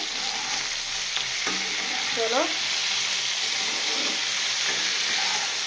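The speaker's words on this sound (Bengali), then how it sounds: "আমি কিন্তু ফুলকপিটাকে নুন হলুদ দিয়ে ভাজা বসিয়ে দিয়েছি তেলের মধ্যে" Cauliflower seasoned with salt and turmeric fries in oil, making a continuous sizzle with a few clinks and stirring scrapes, while a voice briefly speaks.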